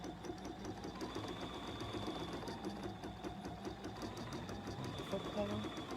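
BERNINA sewing machine with a number 10 D foot, a soft steady mechanical whir and faint rapid ticking that run through the whole stretch at low volume, with no talking.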